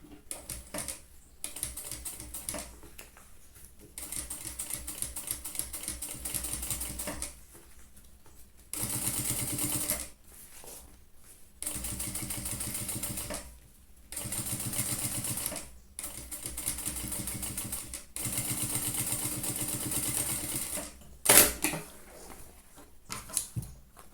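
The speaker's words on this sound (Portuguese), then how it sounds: "E eu vou rebater sobre o fundo um pesponto." A sewing machine topstitching a trapezoid pencil case runs close by in short whirring bursts of stitching, separated by brief pauses.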